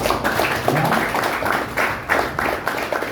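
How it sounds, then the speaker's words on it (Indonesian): A congregation at a junior high school Christmas service in Jakarta claps in rhythmic bursts, a steady run of hand claps that fills the room, some claps sharper than others, with no talk over it. "Tepuk tangannya mana buat Tuhan Yesus?"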